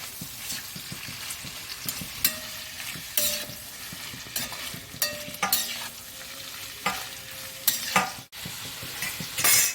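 Onions fry and sizzle in a pan for a small chicken curry, stirred with repeated scraping strokes of a utensil against the pan under a steady hiss, close and moderately loud.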